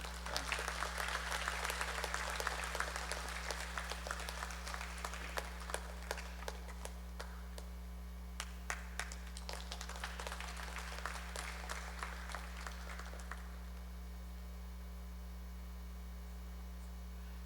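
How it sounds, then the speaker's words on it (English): An audience at a University of Guyana convocation ceremony applauds in a sustained round of clapping that thins out and fades to scattered claps, over a constant low electrical hum. "let's give a tremendous round of applause as this has been done"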